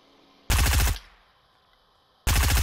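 Video game gunfire: two loud, close bursts of rapid automatic shots, separated by a short quiet gap with a faint lingering tail.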